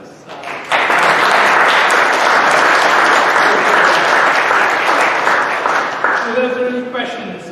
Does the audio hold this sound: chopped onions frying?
no